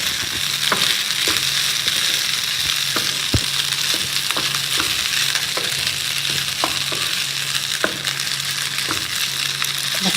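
Macaroni and pre-boiled minced meat filling stirred in a pan, a steady loud sizzle broken by regular scraping knocks of the spoon against the pan, with no voices.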